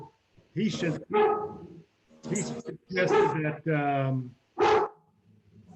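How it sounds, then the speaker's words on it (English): A dog barks in several short, loud bursts close by, interleaved with a person talking during a board meeting call. "I have a dog barking"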